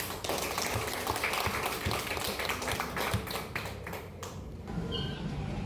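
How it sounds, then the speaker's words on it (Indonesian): A classroom of students claps hands together, a dense, lively patter of many claps that runs steadily, then thins and stops, with a brief pause before a few more sounds near the end. "Masih tepuk tangan dulu."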